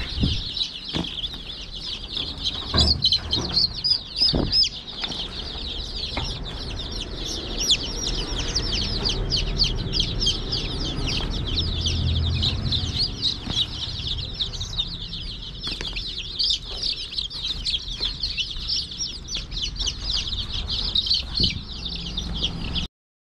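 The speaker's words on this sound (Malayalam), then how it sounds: "കോഴിക്കുട്ടികളെ നമ്മൾ ഈ കൊട്ടയിലേക്ക് മാറ്റാൻ പോവാണ്." Young chicks chirp continuously in a dense, high peeping chorus while being moved into a basket for vaccination, with soft thumps and handling bumps underneath and no talking.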